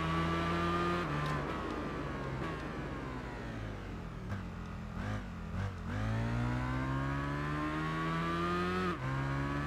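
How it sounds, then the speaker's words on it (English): An Aprilia RSV 1000R Factory superbike races in a motorcycle video game, its engine screaming loud and continuous as it climbs through the revs, with quick dips at each gear shift and sweeping rises under hard acceleration. "Let's see how well this Aprilia bike does then."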